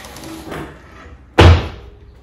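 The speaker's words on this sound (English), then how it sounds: "what we're going to do is push the door up and test it." A ceiling attic door is pushed up and shut with a single sharp, loud thud and slam, followed by a short fading rattle, after a quieter scrape and movement.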